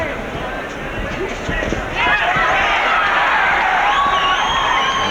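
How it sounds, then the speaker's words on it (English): A crowd cheers at a boxing match between Tom Moore and John LaGarde, rising into a loud, sustained roar under a commentator's voice. "And even those light punches that landed bring a cheer from the crowd."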